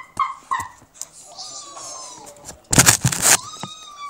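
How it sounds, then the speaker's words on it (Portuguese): A small dog whimpers and yips in a series of short, high whines, close and fairly loud, with a burst of noisy scuffling or handling partway through. "Essa é minha cachorrinha."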